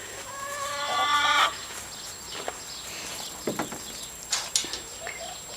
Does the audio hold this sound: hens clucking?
yes